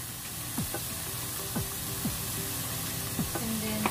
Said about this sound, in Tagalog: Habang gisa natin yung meat with garlic and onion, lalagyan na natin ang paminta.